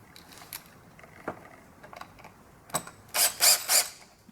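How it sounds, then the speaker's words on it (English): A power drill drives self-tapping screws while a Thule T2 Classic platform bike hitch rack is assembled. Scattered clicks and knocks lead into three short, loud whirring bursts close by. "I'm using the drill to make it faster"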